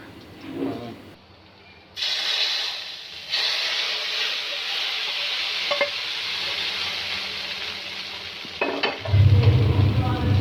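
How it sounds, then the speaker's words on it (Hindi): Steady frying sizzle and hiss of spices in hot oil for a kadhi tempering, with occasional stirring clinks and a louder burst near the end. "इसको फ्राई करके हम कड़ी को तड़का लगाएंगे"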